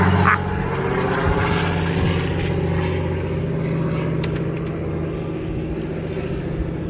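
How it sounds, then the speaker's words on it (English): A propeller airplane drones overhead in a steady, loud, continuous hum with layered engine tones, heard from the deck of a boat with no talking. "there's a plane overhead"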